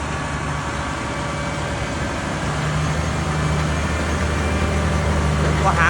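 A heavy truck hauling a wind turbine generator section drones low and steady in a low gear, laboring uphill with a deep rumble that swells slightly louder over time.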